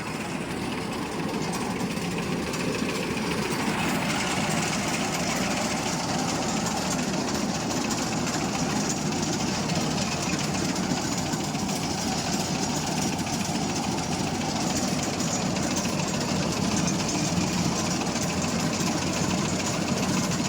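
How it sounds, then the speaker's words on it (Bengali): Japanese cotton carding machine running steadily, a loud, dense mechanical rattle and whir that continues without a break from start to finish, with no talking. "জাপানি তুলো ধুনার মেশিন"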